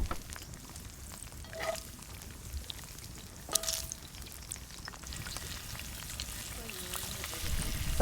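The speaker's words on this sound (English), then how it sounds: "So while we're cooking up the bacon" Bacon frying in a pan, a constant soft sizzle and crackle with a few louder pops and utensil clinks, fairly quiet and close throughout.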